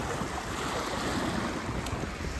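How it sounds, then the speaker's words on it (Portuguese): Small waves stirred up by a light wind lap at a lake's edge, a steady broadband wash with gusty wind noise against the microphone and no talking. "Está a fazer umas ondinhas porque está um bocadinho de vento."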